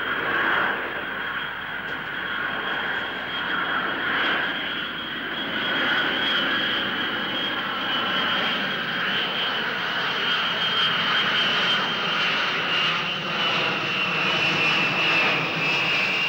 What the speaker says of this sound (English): So pilots are going to want to do a nice, long, straight-in approach to the runway, so you get an extended approach path.